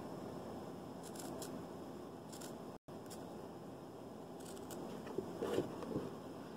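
Scissors trim an Xcoser Batfleck-style Batman cowl mask, giving a few faint, brief snipping and crunching cuts spread over a steady background hiss, with one near-silent gap partway through.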